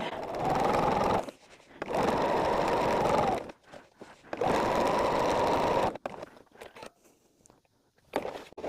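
A sewing machine stitches fabric for a zippered bag in three long, steady, whirring runs with short pauses between them, followed by brief handling clicks and a final short burst.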